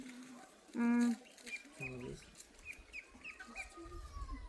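Chickens cluck at a home farmstead, a loud burst of strained clucking near the start followed by a shorter cluck pair and faint chirps over steady background hum.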